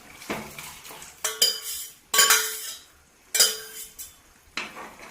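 Mutton curry being stirred in a metal pot in a Kerala-style kitchen: a ladle scrapes and clinks against the pot in four distinct bursts, each sweeping and fading, close and fairly loud with no talk.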